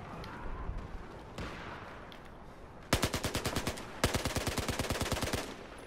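UMP5 submachine gun firing in Battlefield 4, first scattered distant gunfire, then two close, loud rapid bursts of evenly spaced shots, each burst lasting about a second, with no voices.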